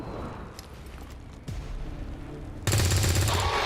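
Gunfire in the XCOM 2 video game: a low rumbling burst at first, then a loud, dense, sustained blast of shots that fills the end, with no talking.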